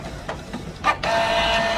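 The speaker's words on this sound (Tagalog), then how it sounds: "magpiprint muna tayo ng kanyang nozzle check pattern para makita nyo yung actual" A Canon printer prints a nozzle check pattern with a few short mechanical clicks and whirs, then a steady, close motor hum as the printhead runs.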